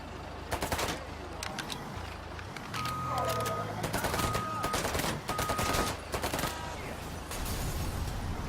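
Bursts of rapid gunfire in the Mafia 3 video game, loud repeated volleys and single shots over several seconds, with engine rumble and a voice briefly under the shooting.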